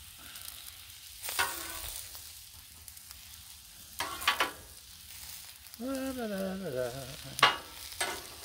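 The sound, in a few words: eggplant and vegetables cooking on a Blackstone griddle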